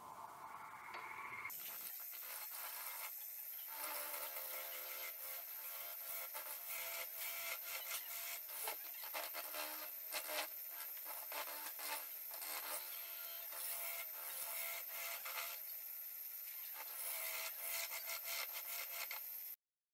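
A square wood blank turns on a lathe as a tool bites in, producing dense, loud rasping and scraping with rhythmic surges, continuous for most of the stretch and stopping abruptly at the end.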